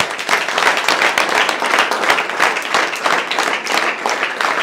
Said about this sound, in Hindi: जोरदार तालियां सभी लोग बजाएं